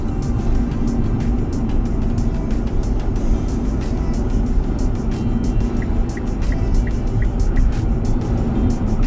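A Nissan Leaf 24 kWh electric car driving through city streets in Zhytomyr as a taxi, a steady broadband road and tyre roar with a faint intermittent ticking, such as a turn signal, partway through.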